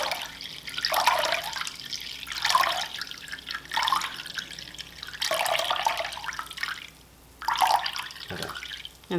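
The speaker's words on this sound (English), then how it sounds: "You can carefully squeeze a little of the water out." Water drips and trickles in repeated bursts as it is squeezed out of freshly dyed yarn, close by, with quiet gaps between each squeeze.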